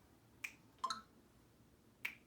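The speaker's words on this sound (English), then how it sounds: "I'm going to snap my fingers around your head, and I want you to tell me when you can hear it" Finger snaps around a patient's head during a neurological hearing check: three crisp, separate snaps, faint but close, in a quiet room.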